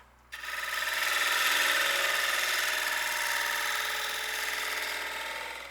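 A bowl gouge cutting into a spinning wooden bowl on a lathe gives a steady, loud, broadband shearing hiss that starts abruptly and holds evenly with a low motor hum underneath.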